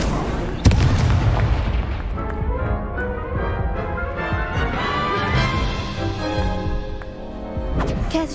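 Fire spells cast in a Harry Potter video game: sharp bursting whooshes and booms over a dense, continuous layer of game music and effects, with a strong hit near the start and more blasts through the clip.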